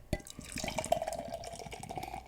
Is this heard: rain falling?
no